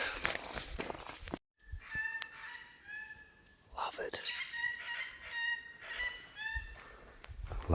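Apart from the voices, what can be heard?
currawongs calling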